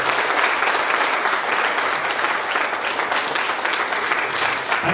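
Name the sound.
audience applause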